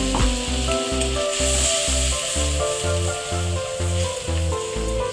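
Spice-rinsing water hits a hot pan while cooking a duck egg and cauliflower curry, making a steady hiss and sizzle that carries under rhythmic background music.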